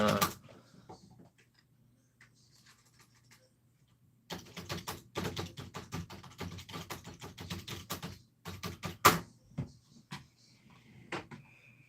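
Clicky keystrokes on a keyboard: a few isolated taps at first, then a quiet gap, then a long run of irregular, close typing bursts with some louder clacks.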